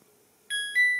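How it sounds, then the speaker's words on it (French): Two bright electronic beeps from the control buttons of a Valberg washing machine, the second following shortly after the first, each a clear sustained tone standing out against a quiet room. "On entend, toi, le bip bip sonore."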